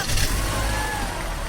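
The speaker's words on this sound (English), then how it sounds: "She got in the car, put the key in the ignition" A Toyota car engine runs after the key turns in the ignition, giving a loud, steady broadband roar with a brief heavier surge at the start and no clear voices.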